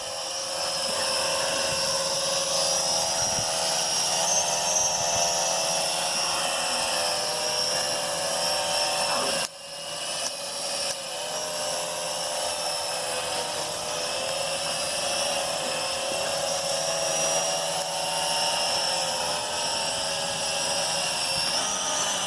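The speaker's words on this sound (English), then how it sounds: "But there goes my drone, taking off on me." Venom Pro GPS streaming drone flying at Manhattan Harbour, a steady high-pitched whirring buzz of propellers that holds close and loud throughout with a brief dip partway, alone without talking.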